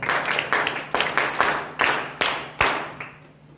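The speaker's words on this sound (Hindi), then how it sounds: "तो इसके लिए एक बार सभी लोगों के लिए जोरदार तालियां" An audience at a weekly discussion meeting breaks into a loud round of clapping and applause, steady bursts filling the room from start to finish.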